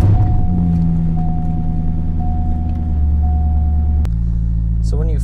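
A C5 Corvette engine idles with a deep, steady rumble close by, then shifts abruptly to a lower, rougher tone near the end as a brief electronic chime sounds.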